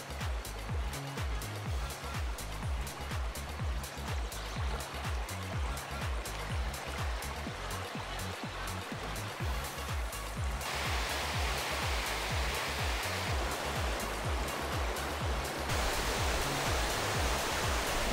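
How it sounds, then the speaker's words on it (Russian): The Navolisay mountain river waterfall in Uzbekistan roars as a steady, dense rush of falling water, close and loud throughout, with its tone shifting a couple of times. "Посмотреть водопад и искупаться в нем."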